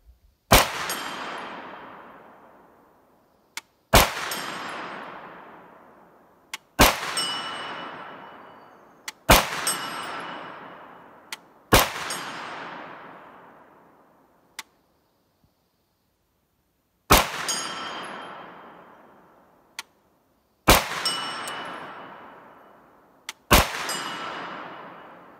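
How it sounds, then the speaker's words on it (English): An AR-10 rifle fires about ten spaced shots, each a sharp, loud crack followed by a ringing metallic clang off steel targets that decays over a couple of seconds, with irregular pauses between shots. "AR-10's making noise."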